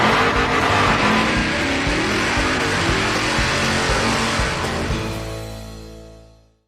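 A 1976 Dodge Dart with a 318 engine doing a burnout, a loud, dense roar of revving engine and squealing tires that holds steady and then fades out at the end.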